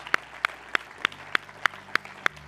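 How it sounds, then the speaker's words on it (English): Hand claps of praise from a church congregation ring out in a slow, even beat, about eight sharp claps spaced evenly apart, with a faint low hum beneath and no voices. "Let's give the Lord a hand clap of praise"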